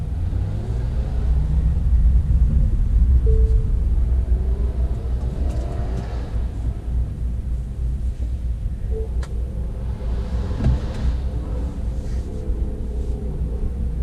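A 2016 Honda runs an autocross course, heard as a continuous low engine rumble with rising and falling revs, some wind buffeting on the microphone and a few faint distant clicks.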